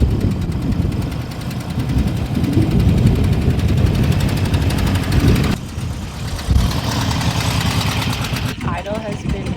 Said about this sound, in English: I'm just sitting here and getting her a little bit more warmed up before I take off